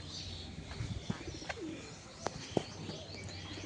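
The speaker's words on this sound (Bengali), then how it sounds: "এই যে পায়রা চলছে" Domestic pigeons let out from a house loft coo and call in a few short, scattered bursts over a soft, steady outdoor background.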